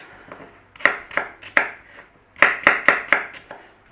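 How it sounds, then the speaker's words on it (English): A knife chopping an apple into small cubes on a board, two bursts of sharp, close knocks, three spaced strikes and then five quicker ones, with no talking. "So just cube your apple up any which way."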